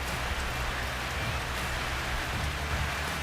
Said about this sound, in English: we are at the Treetop Walkway and it is pouring down